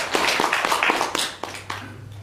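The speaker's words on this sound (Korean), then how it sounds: "우리 하나님께 감사의 박수를 한번 또 보내주십시오" A church congregation applauds during a Sunday service, with scattered, distinct claps close by in an irregular rhythm that thins out over a couple of seconds, a low steady hum underneath.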